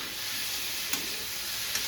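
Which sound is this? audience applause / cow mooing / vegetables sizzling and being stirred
vegetables sizzling and being stirred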